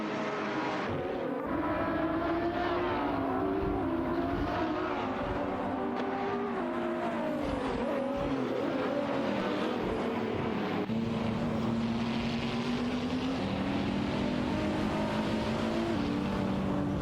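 Audi and Ferrari 488 GT3 race cars battle for position in a racing video game, their engines droning continuously with shifting pitch and no voices.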